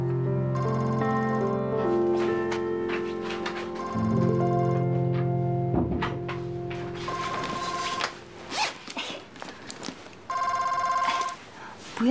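A telephone rings repeatedly in an indoor scene, bursts of bright electronic ringing separated by short gaps, with some background noise between rings.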